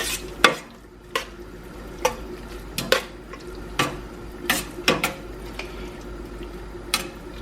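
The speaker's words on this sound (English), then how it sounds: "And just give that a stir." Blueberry jam being stirred in a pot, a spoon scraping and clacking against the sides in irregular strokes over a soft, steady simmering background.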